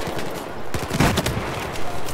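Rapid automatic gunfire rattles in a dense, chaotic burst during a Battlefield 4 Rush match on Dragon's Teeth, mixed with in-game battle noise, with no clear speech over it.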